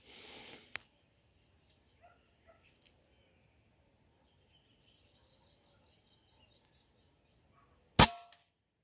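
Two sharp FOX PR900 air rifle shots at an outdoor viscacha and dove hunt in open countryside, a snap near the start and a louder crack near the end, with faint crickets and birds in between.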